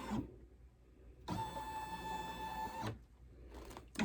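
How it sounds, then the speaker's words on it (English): A home embroidery machine runs its tracing pass around the design outline for a lunch tote, a steady whirring motor hum lasting under two seconds between quieter stretches of room noise. "I'm going to do the little tracer."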